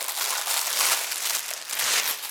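Crinkly plastic wrapping around a pack of paper napkins being opened, a loud continuous rustle and crackle with two swells of handling, close to the mic and without speech.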